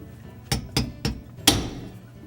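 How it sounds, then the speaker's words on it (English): Four sharp metallic strikes of a hammer on a chisel cutting out a Whirlpool dishwasher drain pump seal, evenly spaced, close and loud, the last blow the heaviest with a brief ringing tail. "you're going to have to use a hammer and a chisel and just cut it straight down through the top"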